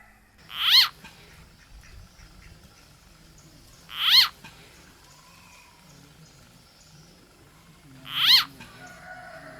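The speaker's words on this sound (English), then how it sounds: "We can hear the screaming of the frog." A frog screams while a snake swallows it outdoors: three sharp, shrill cries spaced about four seconds apart, each loud and brief, over a faint background.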